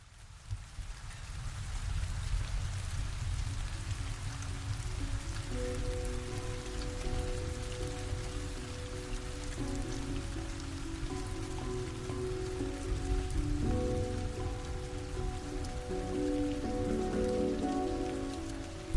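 Heavy monsoon rain pours in a dense, steady downpour drumming on surfaces, loud and continuous throughout, with faint tonal sounds rising underneath partway through.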